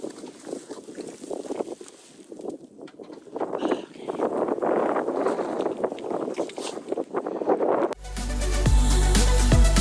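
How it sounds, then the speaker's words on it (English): Gusty wind buffets the microphone outdoors at a horse yard, a steady broadband rush rising and falling for about eight seconds, then a louder, rumbling stretch with faint chirping at the end. "The wind picking up."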